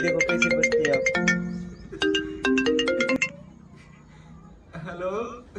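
A Samsung phone ringtone plays as a bright, melodic chiming tune in quick repeated bursts, close and loud, then stops as a voice speaks briefly near the end.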